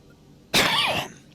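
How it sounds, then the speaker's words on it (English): One close cough lasts about half a second and is loud against a quiet background, with a rough throaty tail. "Oh, sorry for the cough in your ears"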